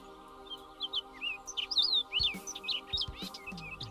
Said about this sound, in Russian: Лиловый дрозд или синяя птица занесен в Красную книгу как редкий вид